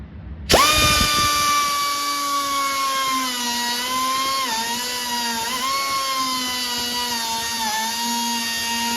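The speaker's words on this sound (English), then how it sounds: "just gonna use my little 3-inch cutoff wheel on my air tool" A 3-inch cutoff wheel on an air tool spins up abruptly to a loud, steady high-pitched whine and keeps running for several seconds, dipping slightly in pitch as it bites into bodywork on a Chevy long bed pickup truck.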